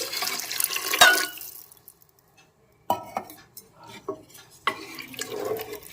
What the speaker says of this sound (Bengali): সাড়ে তিন কাপ জল দিয়ে দিচ্ছি